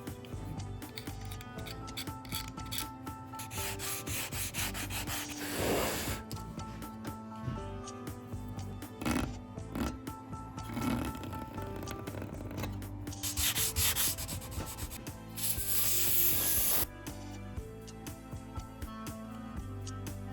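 Sandpaper rubs over a wooden jewelry box being restored, steady scratchy strokes close up with a few louder bursts, no voices.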